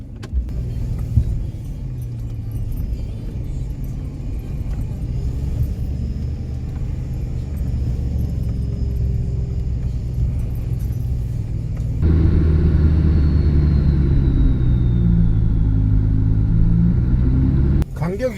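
An off-road vehicle crawls in low gear down a steep, slippery snowy slope in the Victorian High Country, its engine a steady low rumble that grows heavier partway through, with a faint high whine and occasional rattles.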